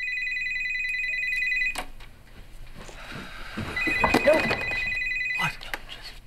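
A telephone rings repeatedly in a scene from the TV drama Breaking Bad, with bright electronic trills that pause and then resume, heard clearly alongside talking and rustling.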